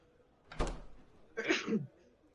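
A single close sneeze, a sharp burst of breath followed by a short voiced exhale, in a quiet room.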